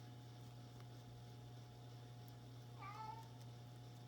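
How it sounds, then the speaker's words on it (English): A house cat gives a single short, faint meow partway through, heard against a steady low hum in a quiet indoor room, with no talking. "My other kitty is saying hi to you guys today."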